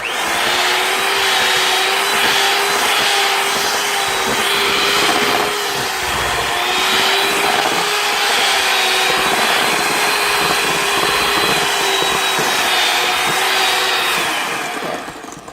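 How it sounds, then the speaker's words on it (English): A stand mixer runs steadily, mixing flour into chocolate chip cookie dough, with a loud continuous motor whine and a churning drone that holds throughout with no talking. "We're going to mix this together. Okay, I don't want to do too much at once or we'll have a problem with my mixer."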